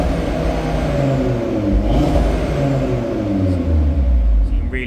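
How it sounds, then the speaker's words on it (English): An Audi TT RS 2.5 TFSI five-cylinder engine, 395 bhp, revs against the soft limiter with dynamic exhaust valves open, a steady loud rumbling drone held close up with small rises and falls. "So really nice noise from the five cylinder, even though it's on the soft limiter."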